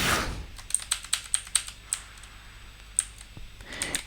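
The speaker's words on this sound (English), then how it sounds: "now I'm going to type" Computer keyboard keys tapped in a quick run of distinct clicks, then a pause and a few scattered presses, close and clear with no voice.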